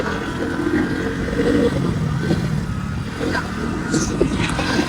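A steady motorcycle engine rumble drones throughout, rising and settling as the throttle is worked, close by and fairly loud.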